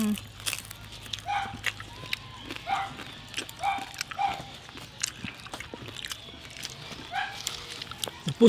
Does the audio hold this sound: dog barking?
yes